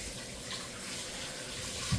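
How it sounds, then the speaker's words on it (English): Tap water runs steadily into a sink as hands are washed before handling cherry pie dough, a continuous hiss with no voices. "let me just wash my hands again"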